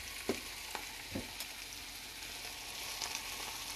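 A breakfast dish sautéing in a pan, giving a faint, steady sizzle with a few soft utensil clicks and taps near the start; no talking.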